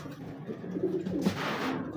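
A pair of pigeons coos softly nearby, several low rounded coos over a faint background hiss, with a brief rustle near the end.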